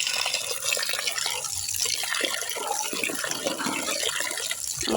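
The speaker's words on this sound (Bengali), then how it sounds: "এখন আমি মাংসগুলোকে খুব ভালো করে ধুয়ে নিব" Beef leg meat is washed under a strong, continuous stream of running tap water that splashes and gushes loudly throughout, with no talking.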